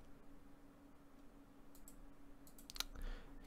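A computer mouse clicking a plus button while configuring Exchange Server 2016, one or two faint crisp clicks near the end over a quiet room hum.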